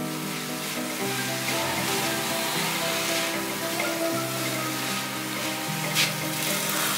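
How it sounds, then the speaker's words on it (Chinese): Ingredients stir-fried in a wok with vegetarian oyster sauce, soy sauce, pepper and salt: a steady, close hiss of sizzling oil, with faint scraping and stirring noises running through it. "我大约继续炒了3分钟左右，食材全都熟透了"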